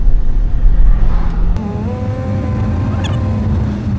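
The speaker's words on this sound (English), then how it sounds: "There's another car." A car passes on a windy mountain top, its engine droning and rising in pitch as it goes by, heard under a constant low rumble of wind buffeting the microphone.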